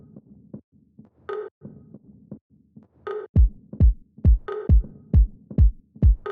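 A percussion loop from a music track, soft knocks and brief bright hits that build into a steady pattern of deep, punchy thumps repeating about twice a second, close and dry, no voices.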